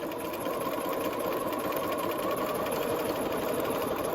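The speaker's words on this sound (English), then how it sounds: "then we are just going to start stitching all the way around." Sewing machine running continuously as it stitches around a shirt neckline and front band, a steady close whirring hum with no pauses or talk.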